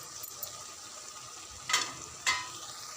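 Ridge gourd pieces cooking in a pan for a chana dal curry give off a steady, close sizzling hiss, broken by two brief scraping stirs near the end.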